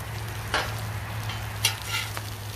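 Bacon for a smash burger sizzles steadily in a pan, cooked until well done, with a soft hiss and a few brief scraping stirs and clinks over a low steady hum; no one speaks.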